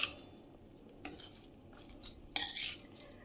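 Cooked rice stirred into a garlic tempering with gongura, heard as a few scattered spoon scrapes and clinks against a pan, fairly quiet and close, with irregular pauses and no voices.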